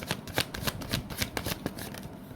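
A deck of tarot cards being shuffled by hand, close and soft, with repeated riffling flicks and papery slaps in an uneven rhythm.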